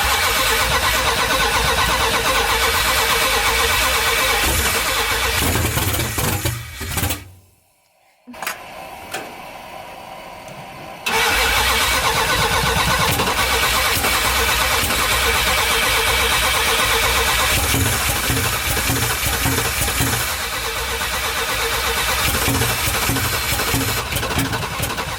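A 1978 Dodge Power Wagon Macho Spirit with a fuel-starved carburetor cranks loudly and repeatedly, falls briefly quiet, then catches and runs with a rough, steady mid-pitched engine roar close by.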